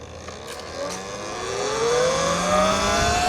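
A Talaria xXx electric dirt bike at full throttle in eco mode, with a rising motor whine that climbs steadily in pitch and grows louder over a few seconds, heard close along with wind noise.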